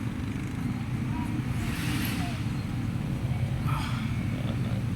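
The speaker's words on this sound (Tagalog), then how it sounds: "Maraming dumadaan ng motor." Motorcycles passing through a town plaza in Looc, a steady loud road rumble with engines swelling by one after another, outdoors in the open air.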